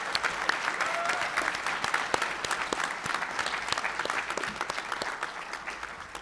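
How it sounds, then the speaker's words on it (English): Audience applause for apprenticeship program graduates at a community graduation ceremony, a steady, dense round of many hands clapping that holds at full strength for over six seconds without any talk. "Can we please give them another round of applause?"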